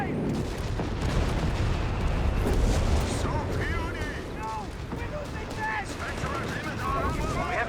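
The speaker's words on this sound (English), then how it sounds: "there go another great hit from the Archer" An Archer tank destroyer takes hits in Company of Heroes 3 amid heavy battlefield noise: loud, rumbling booms and blasts roll on without a break, mixed with small-arms fire, while someone talks over the din.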